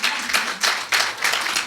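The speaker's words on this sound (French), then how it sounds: "On peut-tu donner une main d'acclamation à Charles Albert Tindley" A small gathering at a French-language gospel music session claps together in a few rhythmic bursts, close and fairly loud, the hands striking in a loose, uneven pulse.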